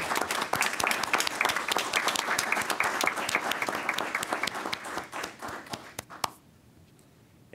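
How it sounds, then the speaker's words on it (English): Enthusiastic applause from an audience, dense and steady clapping for about six seconds before it quickly fades into quiet. "we, too, would like to offer you a round of applause."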